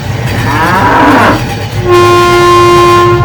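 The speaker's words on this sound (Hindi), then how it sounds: "चलो, ट्रेन धीमी चलाते हैं। ट्रेन धीमी हो गई।" A cartoon train slows on its tracks with a low rumbling clatter, then a loud, steady horn blast sounds for over a second, close and alone.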